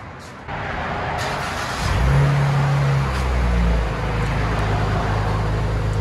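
V6 Dodge Challenger or Charger exhaust with the mid resonators deleted and rear mufflers kept, a deep steady idle that swells into a rev and then settles back, loud and close.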